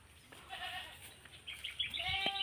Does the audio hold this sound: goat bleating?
yes